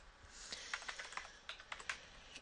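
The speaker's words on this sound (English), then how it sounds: "So I'm going to type in orthodontist" Typing on a computer keyboard, a quick irregular run of light key clicks entering a search for an orthodontist, close and clear with no talking.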